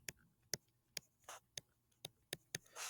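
Pen tapping and scratching on paper while jotting chemistry notes, a sequence of crisp, evenly spaced ticks with a few short scribbling strokes, close and quiet, with no voice.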